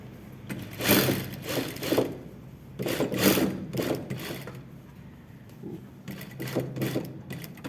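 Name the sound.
sewing machine stitching a long seam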